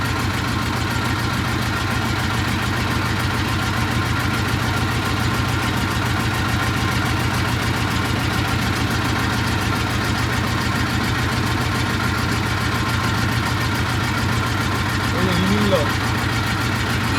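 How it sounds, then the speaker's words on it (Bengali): A motor boat crosses the Talberia dam reservoir in Bankura with its engine droning in a steady, loud, continuous rumble from start to finish, while a person talks over it. "জল কাটিয়ে নৌকাটা যত সামনের দিকে যাচ্ছে"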